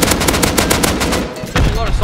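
Rapid automatic gunfire rattles in the survival game Rust, loud dense bursts of shots with a brief pause before firing resumes, close and harsh.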